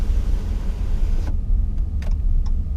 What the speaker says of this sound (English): Taking this 2019 Chrysler 300C out for a quick little spin.